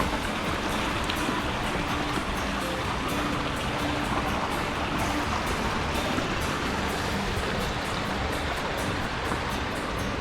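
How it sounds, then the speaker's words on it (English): A creek running through the woods on a portage trail in Quetico, a steady, even rush of flowing water with no pauses, close by and alone. "Creek runs through here."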